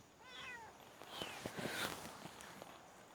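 A cat meows in a short rising-and-falling call near the start, followed by soft scuffs and shuffling footsteps close by, with no talking over it.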